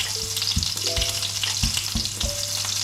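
Onions fry in a pan in a home kitchen, a loud, dense sizzle with scattered crackles and the clink of stirring, no voices heard.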